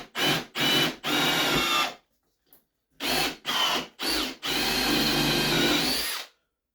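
A hand-held power drill bores holes in wood for a simple tool box, heard as two short bursts and a longer run, a pause, then two more short bursts and a longer run, loud and close.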